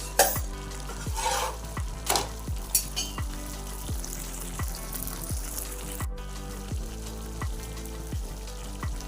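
Stuffed brinjals frying in a pan, a continuous sizzle broken by regular soft knocks as the pieces are turned, with a few brighter crackling spurts early on, close and moderately quiet.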